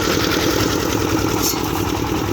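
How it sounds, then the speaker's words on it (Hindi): Newly fitted engine driving a concrete mixer at a road construction site, a continuous loud mid-to-low idling drone with steady clatter throughout, no voices over it. "ये दोबारा नया इंजन लगा के जी इन्होंने अपना काम शुरू किया हुआ है यहाँ पर"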